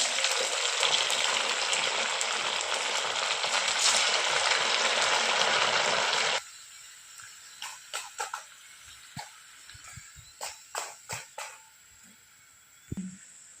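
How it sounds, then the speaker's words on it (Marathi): Sabudana vadas deep-frying in hot oil: a loud, dense crackling sizzle for about six seconds that cuts off abruptly, followed by scattered clinks and taps of a utensil against the pan. "अशा प्रकारे आपण सर्व वडे तळून घेऊया"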